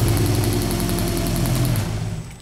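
A car engine runs after being repaired, a steady mid-to-low idle rumble with a high whine on top, holding even and then dropping off near the end.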